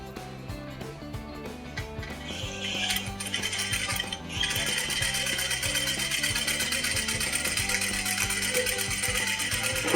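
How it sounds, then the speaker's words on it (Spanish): A sewing machine stitches along a waistband seam, its rapid mechanical clatter running steadily near the mic, briefly pausing before resuming with a bright, continuous whirr of the needle. "Tengamos en cuenta de llevar nuestra máquina siempre por entre la costura"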